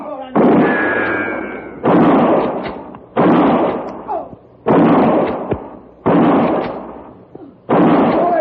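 Six loud gunshots from a rifle and a derringer ring out in a Western radio drama, evenly spaced about a second and a half apart, each sharp crack trailing off into a ringing decay.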